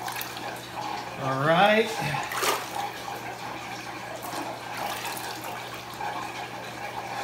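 Dirty sponges are squeezed out, and water dribbles and splatters in a loose trickle after a brief spoken word.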